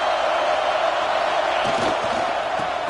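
Loud, dense stadium crowd roar swelling steadily at a college football game, Wisconsin Badgers fans urging on the defense before a red zone stop in overtime, with no clear voice above it.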